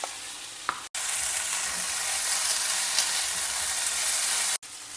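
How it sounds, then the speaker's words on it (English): Raw plantain curry with grated coconut is tossed and stirred in a hot pan, a steady sizzling, frying hiss with brief scraping, close and continuous, broken by two short gaps, with no talk. "Toss everything together very well"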